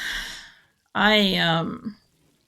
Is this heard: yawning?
yes